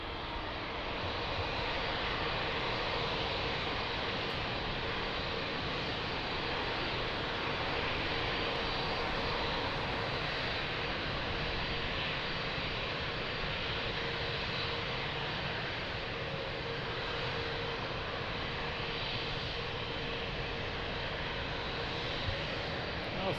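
Airplanes run engines at Lisbon Airport, a steady broad roar of aircraft engine noise that holds at a constant level throughout, with no voices.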